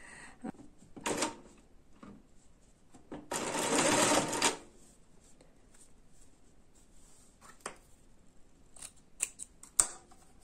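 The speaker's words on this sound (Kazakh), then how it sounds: "бірінші қатарын тігіп көрсетейін." A sewing machine stitches the first row of a handbag in short bursts, with one longer, louder run in the middle and brief clicks and handling noises between, with no talking.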